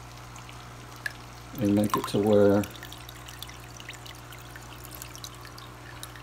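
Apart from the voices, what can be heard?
water being poured into an aquarium filter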